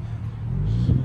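At an auto auction lot, a van drives off with a low engine rumble that builds slightly as it accelerates, heard briefly and fairly close.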